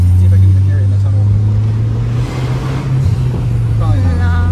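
Inside a VW Passat 1.8T turbo with the muffler removed, a steady low engine drone fills the cabin, with a faint turbo whine and some road and wind noise; no voices.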